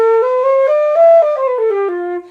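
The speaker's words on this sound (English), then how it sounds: "do you have a fluffy sound and you sound a bit like this?" A flute plays a short descending melodic line with a soft, breathy, airy tone, close and fairly loud, with no talking.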